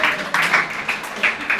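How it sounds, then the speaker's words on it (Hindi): Applause for a poet's teacher at a mushaira gathering, with fairly loud, close clapping that keeps coming in bursts and swells over a brief stretch. "एक बार उस्ताद के लिए जोरदार तालियां हो जाए।"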